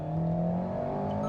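An Alpine A110 sports car engine in track mode holds a steady, loud tonal drone for about a second, a sustained rev with no speech.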